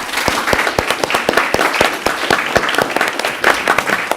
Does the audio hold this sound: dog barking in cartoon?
no